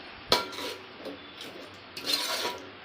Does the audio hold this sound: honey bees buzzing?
no